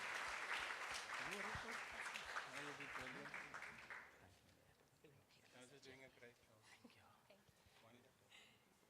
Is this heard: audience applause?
yes